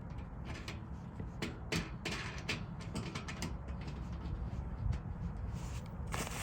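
Bolts are tightened while assembling a galvanized steel raised garden bed, heard as faint, rapid ratcheting clicks and light metallic rattles that repeat quietly and unevenly.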